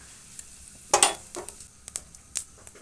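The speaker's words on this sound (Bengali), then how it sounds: "তার জন্য ফোড়নে দিচ্ছি গোটা জিরে আর শুকনো লঙ্কা।" Whole cumin seeds and dried red chillies are tempered in hot oil for a vegetable chorchori. A sharp crackling burst comes first, then scattered sizzling pops and spatters follow, close up, with no talking.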